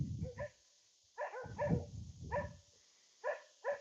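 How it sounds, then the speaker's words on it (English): Dogs bark beside a swimming pool, a series of sharp, fairly close barks in irregular bursts with short quiet gaps between them. "So I'm here with the dogs here."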